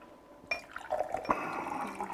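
Water poured into a glass: after a short silence a soft, gurgling pour starts and runs briefly, faint and close, with small splashy accents.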